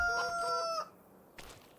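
A rooster crows loudly and close in the Farming Simulator 25 video game, a single harmonic call lasting under a second, followed by a short soft cluck from a chicken.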